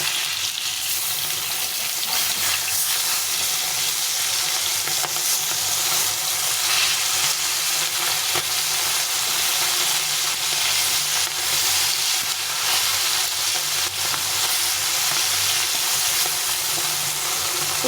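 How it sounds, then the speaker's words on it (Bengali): Bata fish pieces are turned over and fried in oil, giving a continuous loud, close sizzle with faint scraping and stirring through it and no talking. "এক সাইড ভাজা হয়ে গেছে এখন আমি একটা"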